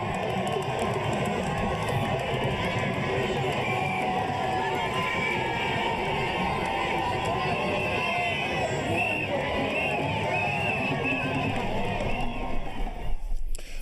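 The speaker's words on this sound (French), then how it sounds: "une foule immense l'attendait pour lui souhaiter la bienvenue" A large crowd gathered in Banjul to welcome the head of state on arrival, a dense steady roar of cheering, shouting and babbling voices that stays loud and unbroken throughout.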